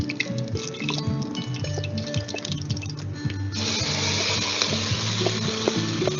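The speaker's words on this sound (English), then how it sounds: "the ghee is hot enough now, so we'll add some jeera. It starts, kind of sizzling." Cumin seeds sizzle steadily in hot ghee, a close, continuous crackling fry that brightens and grows denser partway through, with scattered small pops and kitchen clinks.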